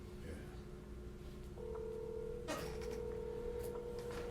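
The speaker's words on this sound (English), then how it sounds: "Your phone's loud. A lot louder than mine, huh?" A steady electronic telephone tone starts partway through and holds, heard faintly over a low background hum with a brief clatter.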